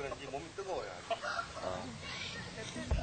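Grown fighting roosters in an East Timor village give agitated clucks and squawks close by, mixed with rustling and flapping, and a voice talks over them.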